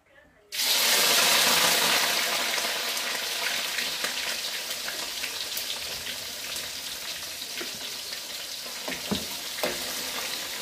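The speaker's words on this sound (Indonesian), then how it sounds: "Lalu saya goreng ikan asinnya." Salted fish drops into hot oil, setting off a sudden loud sizzle that stays strong and gradually eases into steady frying with occasional pops and crackles, close up.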